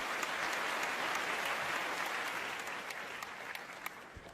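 An audience at the Asia Brand Conclave, an evening awards gathering, breaks into steady applause, a dense wash of many hands clapping that fades slightly toward the end, with a few sharper individual claps standing out.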